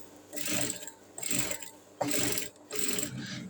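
A sewing machine stitching a folded seam on a saree blouse runs in four short bursts of whirring stitches, each under a second, separated by brief pauses, close and clear with no talking.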